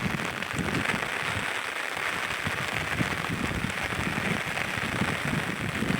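Heavy rain pours steadily on a campsite tent, a dense continuous hiss of drops drumming on the surface with no other sounds.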